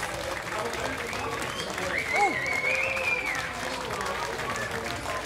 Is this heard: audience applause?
yes